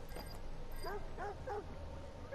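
A small dog in the room gives a quick run of about four high yips in a row, fairly faint against a steady background hiss.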